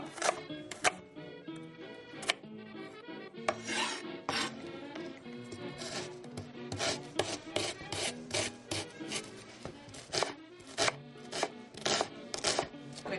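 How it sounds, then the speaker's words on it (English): A knife chops a shallot on a wooden cutting board, trimming it like an onion with slits down toward the core, giving a long run of close, crisp taps and scrapes in an uneven rhythm with no talking. "I'm going to cut it like I do an onion, right down the core, then little slits, not all the way through"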